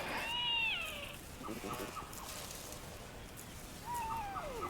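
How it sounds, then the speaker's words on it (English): A fossa, the predatory carnivore of Madagascar, gives wavering mewing calls near the start, then quieter drawn-out cries near the end, with soft background hiss between them. "It's a fossa, a predatory enigma found nowhere else on Earth."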